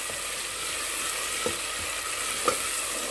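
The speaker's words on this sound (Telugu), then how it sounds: "కొంచెం వేయించండి కాసేపు ఆ నీరు ఎగిరిపోయేదాకా ఉంచుదాం" Chole masala fries in a pan with a continuous loud sizzle. A few soft clicks of stirring come through at intervals as the moisture cooks off.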